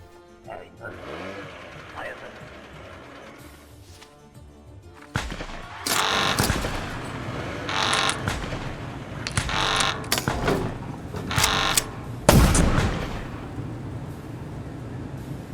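Gunfire and explosions from a terrorist attack in the video game Papers Please: loud, broadband blasts and rapid bursts burst out after a quieter opening, repeating in heavy clusters over a dull rumble, with some voices mixed in.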